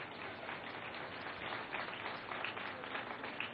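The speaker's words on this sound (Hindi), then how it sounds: "कोई तालियां नहीं बजा रहे," A political rally crowd claps continuously, a dense, steady wash of applause heard at a distance with no break, faint in level.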